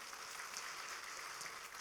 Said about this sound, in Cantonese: 俾掌聲好唔好啊？